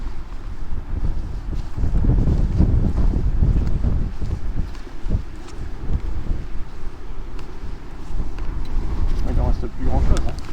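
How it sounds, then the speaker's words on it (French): Strong gusty wind buffeting the microphone outdoors beside the ruins of Hardwick Castle in Scotland, a steady loud rumble throughout with a voice speaking over it. "Ah, il y a du vent."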